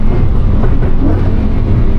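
A Lamborghini Huracan with a dual-clutch transmission, capable of 200 mph, is heard from inside while driving with a window wound down: a steady, dense low engine and road rumble at an even level throughout.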